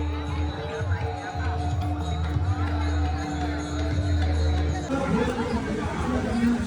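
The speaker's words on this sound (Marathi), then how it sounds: "तुम्ही बघू शकता किती गर्दी आहे" Dense crowd chatter and babble fill a busy Mahashivratri temple fair at Khidkaleshwar Mahadev temple, a steady wash of many voices with footsteps and general bustle, while someone talks over it.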